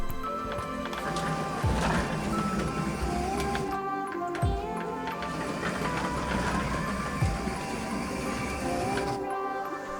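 A small model truck driven by four N20 motors on its rear axles hauls a loaded trailer across a sandpaper road, giving a steady high whirring gear whine with a few soft thumps, close and continuous.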